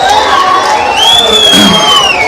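A dense crowd at an open-air folk-song event cheers and whoops loudly to welcome a politician onto the stage, a continuous close roar of many voices.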